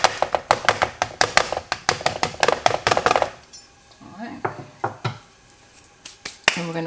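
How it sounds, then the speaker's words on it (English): A knife taps and pokes holes in vegetable flatbread dough on a counter, a fast run of sharp dry ticks, then a pause and a few scattered pokes, close by and clear. "I'm just doing a knife, and I'm just going to dot a couple holes in here."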